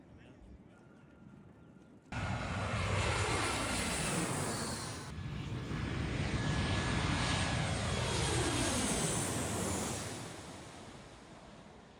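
An aircraft roars close by at a busy small airport in DC, loud and sustained with a shifting engine pitch as it passes, swelling and then slowly fading.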